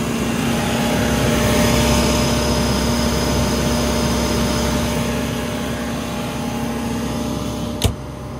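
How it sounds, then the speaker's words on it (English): An engine runs steadily with its pumps circulating oil around the machine, giving a constant droning hum with steady tones, and a single sharp click near the end. "the engine's going to be pumping all that oil around the machine at the moment, obviously with the pumps running"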